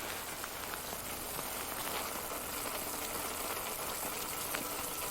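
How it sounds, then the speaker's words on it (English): Heavy rain falls steadily in Seattle, a dense, even hiss of drops on surfaces that holds at a constant level with no voices. "Does it really rain this much in Seattle?"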